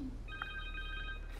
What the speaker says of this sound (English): The phone! Connor's cell phone.